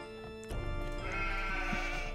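Sheep bleating in the Age of Empires II strategy game, a steady wavering bleat rising over layered game ambience after a brief quiet opening.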